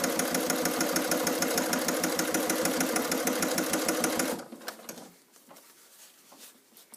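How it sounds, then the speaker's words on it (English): Sewing machine stitching down the side seam of a fabric getaway bag runs in a fast, steady, close mechanical chatter for about four seconds, then stops abruptly, leaving quiet handling rustles. "Continue to sew down."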